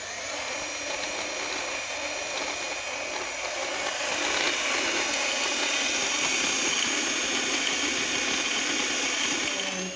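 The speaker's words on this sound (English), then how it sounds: "we're just gonna cut to the part where I grind this out and we'll see if that fits" Metal strut bar being ground down to fit on a W201 Mercedes 190E, a steady, loud, continuous grinding whine for about ten seconds that gets slightly stronger partway through, with no talk.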